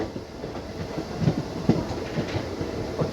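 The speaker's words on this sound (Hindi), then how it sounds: "अपनी गाड़ी पहुंचती हुई सुबह के समय में प्यारे से खूबसूरत फगवाड़ा जंक्शन पे" DMU passenger train arriving at Phagwara Junction in the morning on the Jalandhar–Ambala route, with a close steady rumble and irregular clickety-clack of wheels over rail joints, recorded from on board, no voices.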